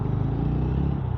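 A TVS Ronin motorcycle rolls along in second gear at about 1000 rpm, its engine giving a steady, low, throbbing rumble close by, alone and without speech for a brief moment.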